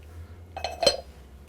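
Gravy is stirred in a pot, with a few light metallic clinks of a utensil against the pot side, two brief knocks close together in an otherwise quiet kitchen.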